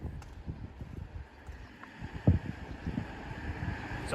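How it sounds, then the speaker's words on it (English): Gusty wind outdoors near a train station in Kesennuma, Japan, buffeting the microphone in low rumbling bursts that swell and ease, with no voices. "It's a lovely windy day for a video."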